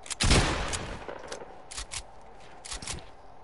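Video game gunfire in a duos shooter match: a loud opening burst followed by several quicker, fainter shots and rattling reports spread across a few seconds, with no talking.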